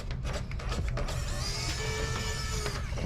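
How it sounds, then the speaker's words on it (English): Small screws being backed out of the plastic side panel of a PS5 Digital Edition console, steady close mechanical whirring of a driver with faint scraping and clicks, continuous with no talking. "Now we're going to remove all of the torque screws to get this side of the case off."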